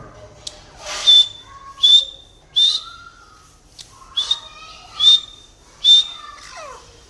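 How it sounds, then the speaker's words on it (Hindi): A desi grey partridge calls in a rhythm of about seven sharp, whistled notes, each a few tenths of a second apart and loud and close, with quieter chirps between them. "एक ये देसी तितर पड़ा है, सीटी पे लगा हुआ है।"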